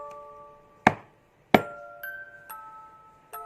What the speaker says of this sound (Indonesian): itu adalah suara sesuatu mengetuk jendela kaca.